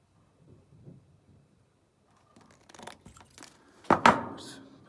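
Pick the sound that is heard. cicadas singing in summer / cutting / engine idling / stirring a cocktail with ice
cutting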